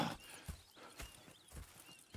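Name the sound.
horse clip-clop and whinny in video game Red Dead Redemption 2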